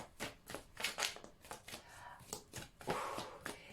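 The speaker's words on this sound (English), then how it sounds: "as I'm shuffling, this is what I'm being told." Tarot cards shuffled by hand in a quick, steady riffle of papery flicks and slaps, close and fairly soft, with no talking.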